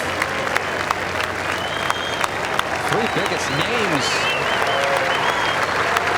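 The Oakmont gallery at the 18th hole of the 2007 U.S. Open gives Cabrera sustained, steady applause, while a commentator talks over the clapping.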